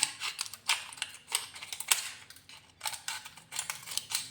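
Scissors snipping repeatedly through thin medicine wrapper foil while being sharpened, a steady series of crisp close clicks and cuts with no talking.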